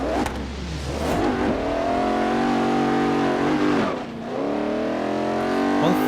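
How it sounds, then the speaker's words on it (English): A 1972 Mercedes-Benz 300 SEL launches from the starting line in the Forza Horizon 3 racing game, its engine revving loud and close with rising harmonic pitch, one brief dip as it shifts gear, then climbing again. "One thing that this car definitely doesn't lack is great launch and great speed in a straight line"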